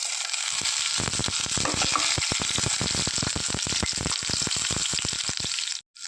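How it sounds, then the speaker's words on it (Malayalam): Ginger and garlic frying in hot coconut oil, a dense, loud, crackling sizzle with rapid popping, close and continuous, cutting off briefly near the end. "ഇനി ആ വെളിച്ചെണ്ണയൊക്കെ ഒന്ന് ചൂടായി വരുന്ന നേരത്തേക്ക് നമ്മൾ എടുത്ത് വെച്ചിരിക്കുന്ന ഇഞ്ചിയും വെളുത്തുള്ളിയും ഒന്നിച്ചിതിലേക്ക് ചേർത്ത് കൊടുക്കാം."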